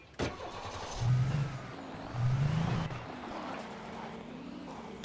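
A car driven in the video game Alan Wake, its engine revving in two rising surges and then settling into a lower steady hum, moderately loud and with no talk.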